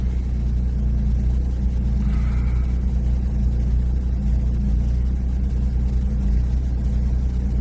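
A 2010 Mercedes E350 engine idles in a garage while it has fault codes and a DPF needing cleaning, making a steady, loud low rumble that holds even throughout with no revving.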